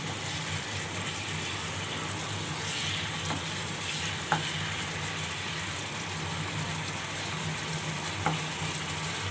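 Tomatoes and spices fry in a pan as the masala for yellow moong dal cooks down, with a steady close sizzle that carries on without a break.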